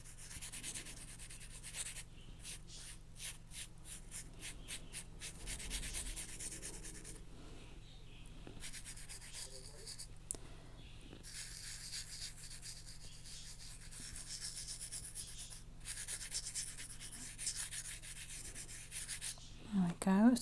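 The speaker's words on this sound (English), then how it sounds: "I'm going to rub the charcoal into the cracks" Charcoal rubbed by hand into the cracks of a painted surface makes soft, steady scratchy rubbing strokes. They are close and faint, run in short bursts, and are heard alone with no talking.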